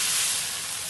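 Chicken and long beans are stirred in a hot pan with a little soy sauce, giving a steady broadband sizzle with soft scraping, close and continuous, with no talk.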